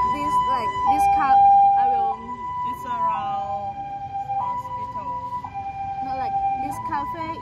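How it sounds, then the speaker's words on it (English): An ambulance siren sounds from a road beside a cafe, its wailing tone holding and stepping in pitch over several seconds while people talk over it. "for now the ambulance car"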